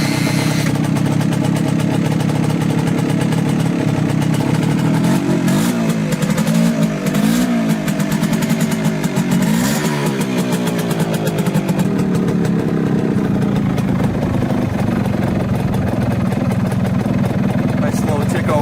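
A 1967 Bridgestone 90 two-stroke motorcycle ticks over at a slow, steady idle close by, a light buzzing putter that stays even throughout, with someone talking over it at times.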